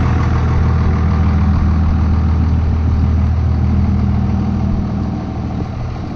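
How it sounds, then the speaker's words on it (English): A car engine idles outdoors on a residential street, a steady, loud low rumble that holds evenly throughout and eases slightly near the end, with no voices over it. "you're gonna hear someone's got their car going idle out here"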